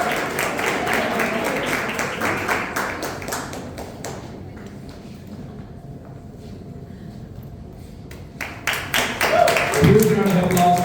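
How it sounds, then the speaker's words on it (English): An audience claps at a Toastmasters anniversary meeting. The applause is a dense patter of hand claps that fades to near quiet midway and then swells again at the end, with a voice speaking. "Huge round of applause to distinguished Toastmaster Rohit Koka."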